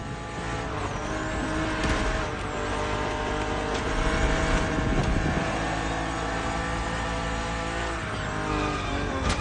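A BMW Z roadster drives hard in The Crew Motorfest, its engine droning loud and steady throughout with continuous road roar and slight shifts in pitch during a race against an aggressive opponent.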